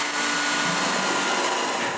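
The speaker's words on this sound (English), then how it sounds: "I just need to drill some holes for the screws" A drill bores screw holes in a plywood part for a wooden bandsaw, giving a continuous close whirring grind that holds steady for the whole two seconds.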